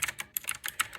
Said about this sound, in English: it's a clicky keyboard. Probably typical blue switches,